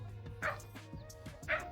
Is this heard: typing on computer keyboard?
no